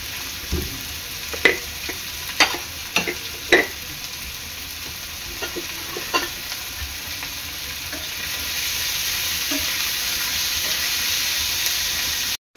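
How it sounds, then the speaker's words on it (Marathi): Chopped onion frying in a pan for a crab burji, soft sizzling with scattered clinks and scrapes of a spoon stirring, then a broader steady sizzle in the latter half before cutting off. "आपला कांदा आहे ना, चांगला लाल होईपर्यंत शिजवून घ्यायचा आहे।"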